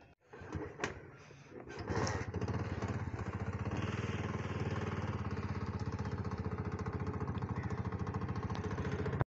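A motorcycle engine hums steadily and loudly while riding on a road, with a rough, even drone that settles in after a few seconds of clatter at the start.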